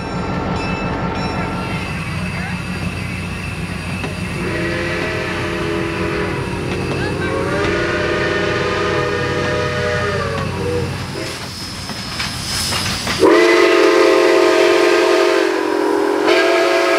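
GP9 diesel locomotive 1602 pulling a train consist at the Indiana Rail Experience in Hudson, Indiana: a steady rolling rumble with sustained, loud whistle-like horn tones rising near the end.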